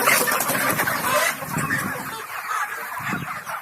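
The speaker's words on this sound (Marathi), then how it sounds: "आता एकदम तल्लक झाल्या, ऍक्टिव्ह झाल्या कोंबड्या." Chickens in a poultry shed cluck and stir at close range, a dense busy chatter that is louder at first and then eases to a steady lower murmur.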